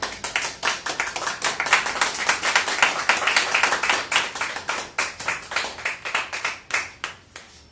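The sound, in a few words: congregation clapping hands in praise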